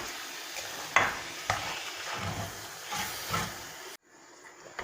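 A coconut and sugar mixture is stirred and turned in a pan on low flame, with scraping strokes at a slow rhythm over a soft sizzling hiss, close by.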